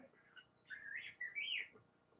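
A pet kiwi bird gives a bright, rising and falling whistle in two sweeping phrases, fairly close, against a faint background hum.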